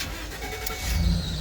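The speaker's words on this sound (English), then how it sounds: "Car starts and runs." A 2013 Ford E250 van being troubleshot for electrical faults cranks and fires up, its engine catching and rising into a louder idle rumble over about a second and a half.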